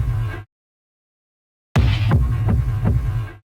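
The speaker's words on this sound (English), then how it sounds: "I wanted to take some kick drum samples, which I pitched down low and stretched out." Kick drum samples pitched far down and stretched into long, booming low thuds, heard as a short hit, a gap of silence, then a sustained deep rumble with several softer pulses, alone with no talk.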